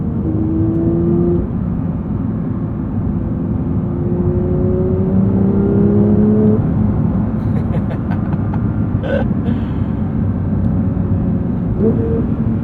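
A 2022 Porsche 911 GT3 engine drones steadily with rising, shifting tones as it pulls through gears in sport mode with auto blip, loud and continuous, with a couple of brief sharp blips near the end and talk over it.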